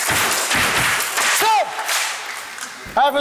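Audience clapping for performers at a live show, a dense, fairly loud patter of hands that swells and dips, with voices and whistle-like calls cutting through.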